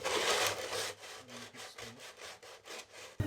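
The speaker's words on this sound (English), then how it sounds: "I'll sand this first." An old wooden Scotch box is hand-sanded with 120-grit sandpaper: a loud, continuous rasping stroke at first, then a steady run of shorter back-and-forth scrubbing strokes, close up and alone.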